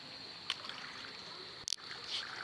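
A strong current of the San Mateo river in Samar rushes steadily as a continuous broadband wash, with a couple of brief splashy bursts standing out near the middle.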